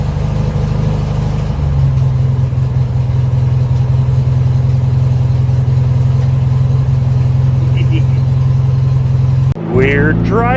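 A BMW E85 Z4 engine drones steadily while the car is driven, a loud, low and continuous hum heard from inside, and someone briefly speaks near the end.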